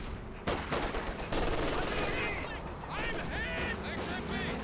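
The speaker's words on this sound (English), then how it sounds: "Still an MG42 working nicely for Loveness." MG42 machine gun fire in a WWII video game, with dense overlapping bursts of automatic gunfire and battle noise, loud and continuous, under a speaking voice.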